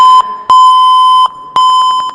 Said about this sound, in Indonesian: Alarm